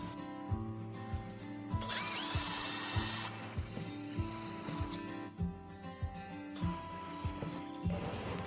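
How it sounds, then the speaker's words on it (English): A power drill works through holes in a Ford Custom door, with short bursts of whirring broken by pauses and sharp knocks, close and fairly quiet with no talking. "We start by drilling all the holes with a smaller drill."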